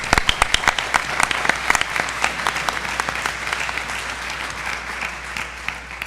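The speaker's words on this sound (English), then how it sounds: "I think that deserves a round of applause" Conference luncheon audience at a climate forum clapping, a burst of applause that starts with sharp individual claps, swells into a dense round and then tapers off.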